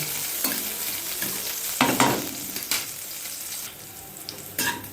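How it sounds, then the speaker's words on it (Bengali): Panch phoron spices, chopped ginger and green chili sizzle steadily in hot oil for a Bengali vegetable chop, with a constant frying hiss and a few sharper spatula stirs and scrapes against the pan, close and without talk. "এই তেলের মধ্যে আমি একটু পাঁচফোড়ন দিয়ে দেব আর এর মধ্যে দিয়ে দেবো একটু আদা কুচি আর কাঁচা লঙ্কা কুচি"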